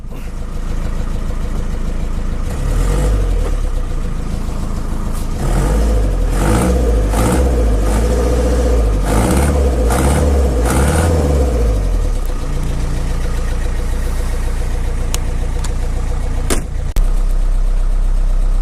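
A loud Land Rover 109 engine idles close by, then revs up in a series of rising, roaring bursts before settling back to a steady idle.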